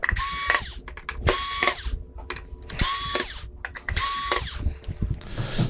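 A power screwdriver backs screws out of the metal back plate of a Samsung UN46D6000SF television in four whirring, ratcheting bursts separated by short pauses, loud and close.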